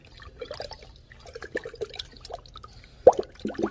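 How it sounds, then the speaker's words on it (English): Coolant being poured into the cooling system of an Infiniti M45 with a VK45DE engine, quiet irregular glugs, plops and trickles of liquid in a calm setting, with a louder splash near the end. "I'm gonna begin adding the fluid."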